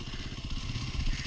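A motorcycle engine is revved hard with a wide-open whiskey throttle, a loud, close, continuous rumble that swells and pulses throughout.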